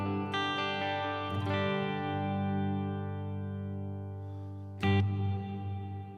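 An electric guitar plays through the Glitz reverb effect on a Headrush or Helix processor, with sustained chords ringing into a shimmering, lush wash and a fresh strum near the end.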